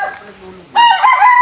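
Young pullets and a rooster of Tornado and Gilmore gamefowl lines: faint clucking and murmuring, then a loud, bright rooster crow bursting in near the mic and sustained to the end.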